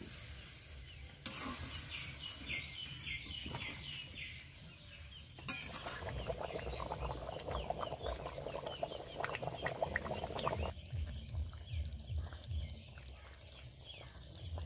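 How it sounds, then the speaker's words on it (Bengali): Water goes into chicken curry in a pan, causing a sudden burst of hissing sizzle and bubbling that runs for several seconds before settling into a quieter simmer, faint and close, with no talk. "তেলও ছেড়ে দিয়েছে, এবার জল দিয়ে দিচ্ছি।"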